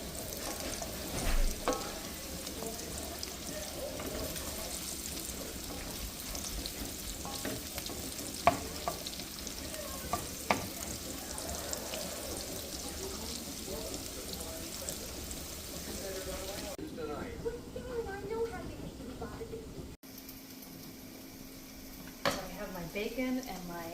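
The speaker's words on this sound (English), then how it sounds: "Bacon and my onions sauteed here." Bacon and onions sautéing in a pan for Dutch stamppot, a steady close sizzle and frying crackle with stirring scrapes throughout, then a quieter stretch near the end, while a voice talks over it.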